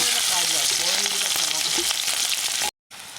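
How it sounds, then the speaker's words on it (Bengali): Green chillies, onion and garlic tossed into hot oil as a tempering while cooking foraged greens: a loud, steady, crackling sizzle with stirring, which breaks off abruptly near the end and then resumes. "ফোড়ন আমি কাঁচা লঙ্কা পেঁয়াজ আর রসুন দিয়ে দিচ্ছি"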